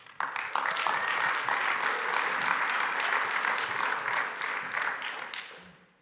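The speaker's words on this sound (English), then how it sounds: "Give a big round of applause for these guys" A large audience at a technical conference breaks into dense, sustained applause that begins abruptly, stays loud and steady for several seconds, then thins and fades away at the end.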